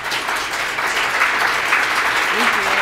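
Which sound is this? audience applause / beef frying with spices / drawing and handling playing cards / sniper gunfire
audience applause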